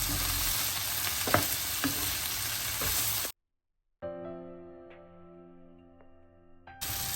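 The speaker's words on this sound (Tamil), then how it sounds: "சேர்த்துட்டு இது எல்லாத்தையும் நல்லா கலந்து எல்லாத்தோடையும் சேர்ற மாதிரி வதங்க விடுவோம்" A vegetable filling for stuffed roti sizzles in a pan while being stirred, with a steady hiss and occasional spoon knocks. Then comes a sudden silent gap, a quieter stretch of humming tones, and the sizzle returns at the end.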